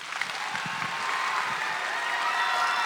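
An audience at a conference opening session breaks into a sustained round of applause, a thick, steady clapping wash that holds throughout with a few low thumps early on.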